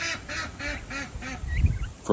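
Ducks quack five times in a steady, evenly spaced rhythm, fairly close, followed by a low rumble and a brief louder noise.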